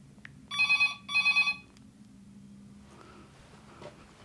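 A telephone bell rings in two short trilled bursts in a quiet room, followed by faint rustling and movement.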